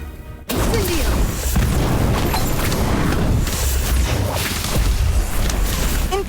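Incendio fire spell cast in Harry Potter: Magic Awakened, a loud sudden burst of fiery, crashing game noise that keeps roaring densely for several seconds after a quiet start, with battle effects layered throughout.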